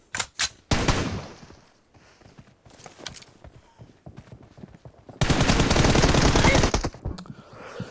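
Gunfire from PUBG Mobile in a team deathmatch: sharp, close shots in short bursts, ending in a loud sustained automatic burst, with brief quiet stretches and some faint talk.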